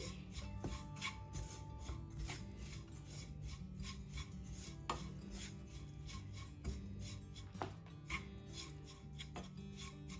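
A spatula stirs a pan of stuffed green chilli fry mixed with finely chopped coriander, making a steady, close rasping scrape with a few sharper knocks against the pan.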